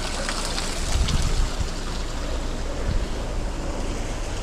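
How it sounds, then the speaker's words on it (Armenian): A small waterfall splashes steadily close by, a continuous wash of falling water with low gusty rumbles from wind on the microphone. "Փոքրիկ ջրվեժ"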